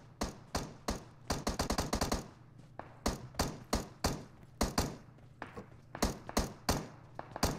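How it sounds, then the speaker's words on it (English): Gunfire in PUBG Mobile as players shoot zombies, sharp repeated shots in uneven clusters and short bursts, fairly distant and steady across the whole stretch. "these guys are shooting and fighting zombies"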